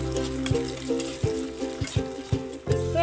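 Chopped tomato and green chilli sizzle with onions in a hot pan, a steady fry broken by regular sharp clacks of a spatula stirring against the pan; no voices.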